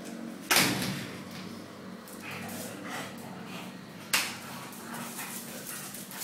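A sliding door is pulled shut with a sharp rattling slide near the start, then a second clack a few seconds later, amid room noise and faint dog sounds.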